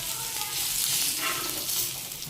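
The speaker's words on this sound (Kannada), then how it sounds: "ನೋಡಿ ಫ್ರೈ ಮಾಡೋಕ್ಕೆ ಹಾಕಿದ್ದೀನಿ." Food sizzles and crackles steadily as it fries in hot oil during home cooking, a close, continuous hiss with no voices.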